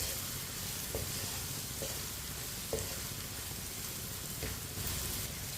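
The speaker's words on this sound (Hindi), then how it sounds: "आधे मिनट के लिए कम आंच पे ज़रूर फ्राई करना" Chillies, turmeric and spices frying on low heat in a pan for bhindi fry, a soft continuous sizzle with a few faint stirring taps, quiet and close, with no voices.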